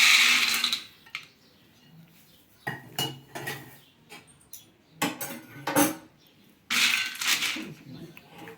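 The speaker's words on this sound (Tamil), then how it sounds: "இப்போ எடுத்து ஒரு தட்டில் கொட்டிக்கலாம்." Roasted peanuts are poured from a pan onto a plate in several separate bursts of rattling and clattering, with short quiet gaps between the pours, heard close up.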